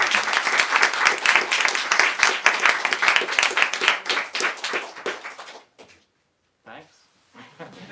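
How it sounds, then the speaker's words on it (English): An audience at a bookstore author event applauds in a loud burst of many hands clapping for about five seconds, then thins out and stops, followed by a few scattered faint sounds. "let's give these two one last round of applause."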